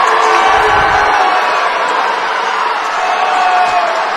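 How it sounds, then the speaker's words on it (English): A student crowd in a gym during a basketball game, Henley students applauding while Mazama students and parents boo, as a steady loud roar of mixed crowd noise with no distinct breaks. "you can hear the Henley student body applauding that, and you can hear the Mazama student body and parents booing"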